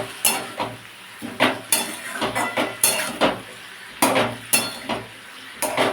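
Spinach with spices being stirred and sautéed in a pan, repeated sharp clanks and scrapes of a spatula against metal in an uneven rhythm over a faint low sizzle.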